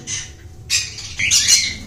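Pet cockatiels at a bird shop give short, sharp squawks and chirps in a few quick bursts, fairly close and with no talk.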